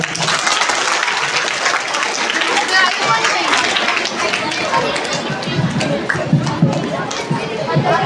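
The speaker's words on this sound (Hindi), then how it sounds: "एक बार पुनः इन बहनों के लिए जोरदार तालियां।" Loud, sustained applause from a school crowd at an annual function and award ceremony, honoring the student girls, with dense clapping and some chatter running through the whole stretch.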